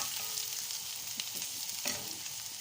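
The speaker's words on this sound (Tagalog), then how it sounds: "Then lagyan natin ang garlic, chopped garlic. Hanggang mag-brown siya guys." Chopped garlic frying in a pan as the base for chicken stew: steady, faint sizzle, close by, with a few soft stirring scrapes and no talking.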